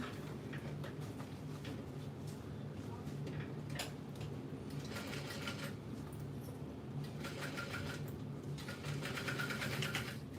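A sewing machine back stitches over the side pockets of a backpack, with quick mechanical ticking runs that start and stop in short bursts over a steady low hum, close by.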